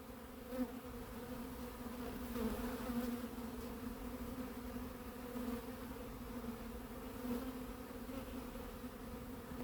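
Several honeybees hum steadily and close around a beekeeper at a hive during the housing of a captured swarm, a continuous buzzing drone that swells slightly now and then with no talk.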